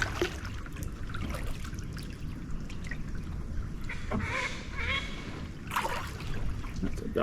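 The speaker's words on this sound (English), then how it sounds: "That's a duck warning me off" Outdoor ambience by a flooded Murrumbidgee River with steady water trickle and a few scattered honking calls from a duck warning off intruders near its ducklings, fairly close.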